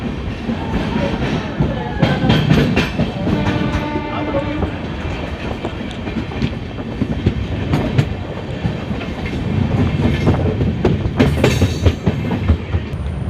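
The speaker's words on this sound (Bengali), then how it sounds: "তো বন্ধুরা ডানকুনি থেকে ট্রেন ছেড়ে দিল" An Amrit Bharat Express pulls out of Dankuni station, its wheels clattering loudly in a rhythmic clickety-clack over the rail joints, with metallic screeches and a few faint voices nearby.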